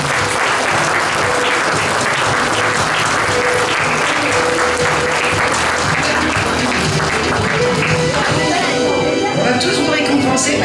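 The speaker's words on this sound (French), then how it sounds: "On peut applaudir." A cosplay contest audience at a convention bursts into loud, dense applause that holds steady for the whole stretch, with crowd voices and cheering mixed in.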